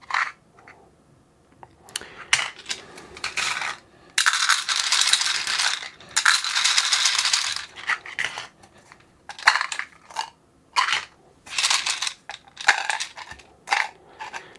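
A screw counter's trigger mechanism dispenses M3 bolts, producing bursts of clattering, rattling metal with a few sharp clicks and pauses between them, close by and loud.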